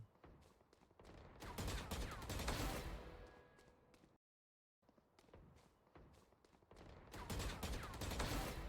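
Rapid gunfire bursts from a Valorant match on the Breeze map, repeated volleys with footsteps between them, loud and close, broken by a brief dead-silent gap midway before the shooting resumes.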